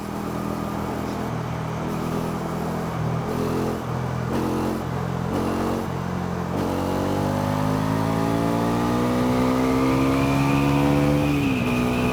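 A Bajaj Pulsar NS400 motorcycle ridden in sport mode, its engine note climbing through several quick gear changes with brief dips between them, then a long sustained rising pull that drops away near the end.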